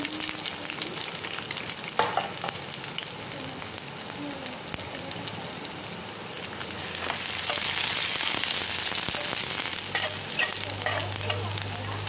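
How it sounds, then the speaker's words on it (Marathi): Chopped onion fries in hot oil with cumin and mustard seeds, giving a steady, close sizzle with occasional stirring scrapes and no talk. "थोडासा कांदा होत आलेला आहे आपला. जास्त ब्राऊन पण नको करून घ्यायला."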